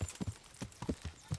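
Horse hooves clip-clopping at a steady, even rhythm in a video game, the distinct hoofbeats coming close together and moderately near, with no other sound over them.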